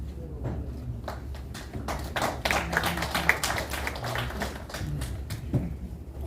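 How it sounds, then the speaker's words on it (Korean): Scattered audience applause rises as a Buddhist monk is invited to the stage at a ceremony, with many separate hand claps of moderate loudness building and continuing throughout in a hall. "많은 박수 부탁드립니다."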